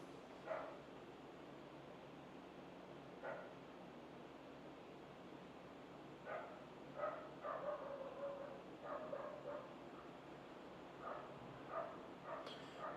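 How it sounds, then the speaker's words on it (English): Faint, distant barking from a neighbor's dog comes in irregular single barks and short clusters against a low steady background hiss. "My neighbor's dog keeps barking."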